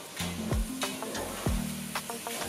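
Kenyan pilau base with cinnamon frying and sizzling steadily in a pan, with a few louder stirring scrapes and clinks breaking through the continuous crackle, close and alone without talk.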